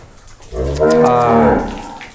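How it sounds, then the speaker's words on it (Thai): A one-year-old heifer on a cattle ranch in Buriram, Thailand, lets out a single loud, close moo that rises and swells for over a second before trailing off, with no talking over it. "อันนี้เป็นวัวที่ซื้อมาใช่ครับ"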